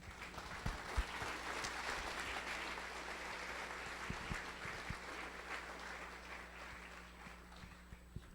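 A church congregation claps in sustained applause through the whole stretch, a steady broadband patter at moderate level with a few sharper claps and some low rumble or footfalls underneath.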